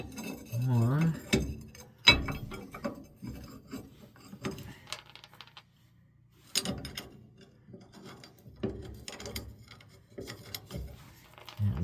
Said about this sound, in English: now we'll get our U-bolts on here.